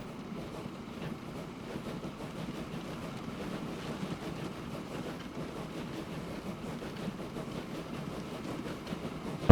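A train rolls along in the Transport Fever 2 simulation game, producing a low, steady rumble with soft rhythmic clatter that holds at a moderate, even level throughout.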